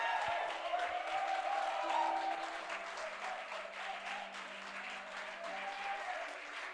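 A church congregation claps and cheers during a prophetic breakthrough worship service, sustained, dense applause with scattered whoops and voices, heard at a moderate distance and slowly easing off.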